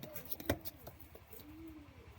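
Pet pigeons of the Madras and Giribaz breeds cooing softly at close range, with a low throaty coo, a brief rustle or flap early on, and quiet room noise throughout.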